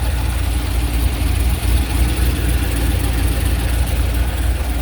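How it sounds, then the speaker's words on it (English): A C5 Corvette Z06 fitted with a BTR Stage 3 cam idles close by, a loud, deep, steady rumble with a slightly lumpy, uneven pulse and no voices over it. "It's not obnoxiously loud, but you can definitely hear that cam."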